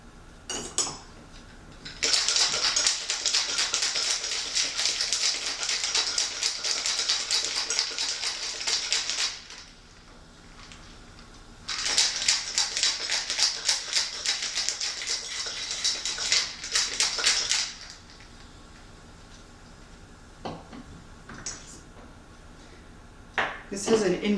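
A cocktail shaker holding cognac is shaken hard in two long bursts of fast, rattling ice clatter with a short pause between them, followed by a few faint clinks.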